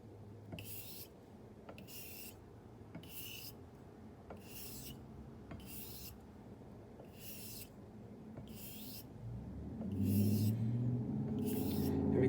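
Solingen straight razor honed on a sharpening stone: about ten even, rhythmic rasping strokes, close and clear over a low rumble that grows louder toward the end.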